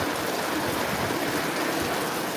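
Heavy rain keeps falling on a terrace, a close, unbroken hiss and patter of water on the floor with a faint running-water quality, no speech.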